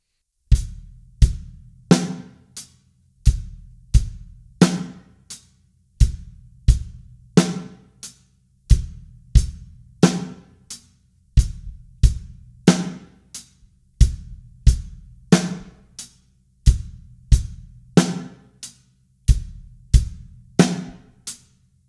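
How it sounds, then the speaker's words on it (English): Beginner pop-rock drum beat with hi-hat, snare and kick drum played together, a steady loop of sharp snare cracks, deep kick thumps and even hi-hat ticks repeating for about twenty seconds, close-miked and without speech. "we're going to throw in the hi-hat, the snare, and the kick drum all together at the same time."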